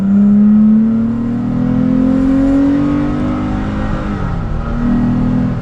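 A Toyota Tacoma fitted with an Injen cold air intake accelerates, its engine note rising loud and close in a sustained pull, then easing back near the end.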